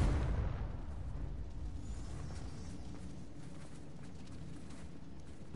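A Confringo blasting spell detonates in Hogwarts Legacy, a broad rumbling explosion with a loud onset that decays into a long sustained roar across the whole stretch, no voices.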